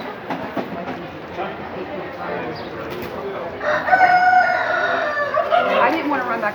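Chickens cluck and a rooster crows at a 4H poultry weigh-in, the calls rising clearly in the second half over steady background chatter from people nearby.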